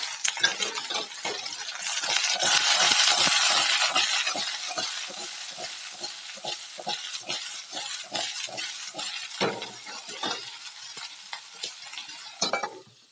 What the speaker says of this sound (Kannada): ಹಾಗೆ 1-2 ನಿಮಿಷ ಎಣ್ಣೆನಲ್ಲಿ ಫ್ರೈ ಮಾಡ್ಕೊಳ್ಳಿ